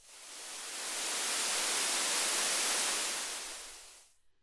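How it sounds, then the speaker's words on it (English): Pure white noise from a transition effect plugin in a drum and bass production swells up as a broad hiss, holds loud and even, then cuts off abruptly after about four seconds. "you just get pure white noise"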